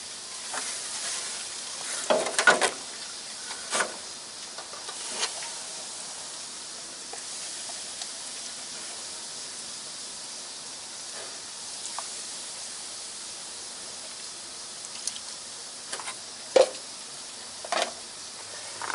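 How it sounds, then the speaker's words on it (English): Baking soda mix foams over acid-coated batteries on a big truck, giving a steady soft fizzing hiss with a few sharp crackles and pops scattered through it, close by and without talk. "we're going to just let that foam sit there for a while and then rinse it off"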